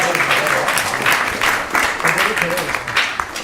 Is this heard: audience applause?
yes